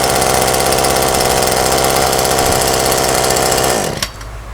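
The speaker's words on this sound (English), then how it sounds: "So let's see, what it'll take to start this guy. There you go. 2 pulls and it started." A small two-stroke engine on a Maruyama or Shindaiwa bushcutter runs loud and steady after a cold start, then cuts out abruptly near the end, leaving a brief quieter tail.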